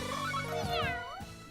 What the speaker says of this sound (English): Did she just meow? She went brrr, meow.